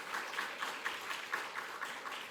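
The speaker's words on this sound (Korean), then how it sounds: "크게 박수하며 할렐루야 환영하도록 하겠습니다" A church congregation at a Wednesday prayer meeting claps together in a steady rhythm, the applause fairly faint and slightly distant, with no speech over it.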